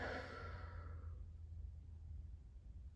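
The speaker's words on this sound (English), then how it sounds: "Take another breath in and breathe out." A soft, drawn-out exhale during a children's yoga session, fading within about a second into a low steady background hum, faint and close.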